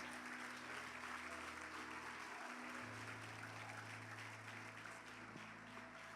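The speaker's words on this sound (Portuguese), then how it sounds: "Se você quer aplaudir o nome do Senhor." A church congregation applauds steadily during a Pentecostal prophetic-act service, with dense, sustained clapping filling the room from start to end and a low organ-like hum underneath.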